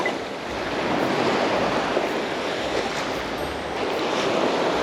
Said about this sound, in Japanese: 海岸の雰囲気だけでも撮っとくか